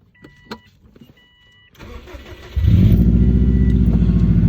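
A few faint clicks, then a 2004 Subaru WRX engine cranks and catches on a cold start, settling into a loud, deep, steady rumble up close.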